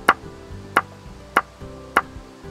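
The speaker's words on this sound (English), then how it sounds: "He used a hammer and some nails." A hammer drives nails into wood while a worker builds a shed for a cow, four sharp, evenly spaced blows ringing out close and loud.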